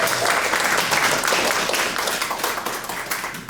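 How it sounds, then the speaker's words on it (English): Audience at an annual meeting applauding staff members, a loud, dense round of clapping that stays full throughout and tapers slightly toward the end. "Can we give them a round of applause?"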